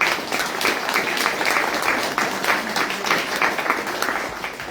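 An audience at a talk claps in a sustained round of applause, dense and steady with individual claps faintly distinguishable, lasting several seconds with no speech.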